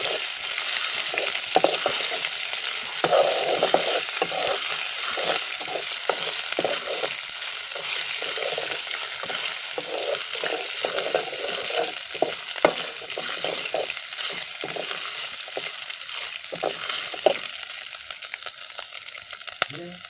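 Homemade ginger garlic paste fries in a hot pan, a steady broadband sizzle with repeated scraping stirs throughout, close and fairly loud, no voices.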